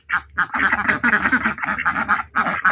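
Ducks quack loudly and continuously up close, a dense overlapping chorus of harsh calls with only brief pauses.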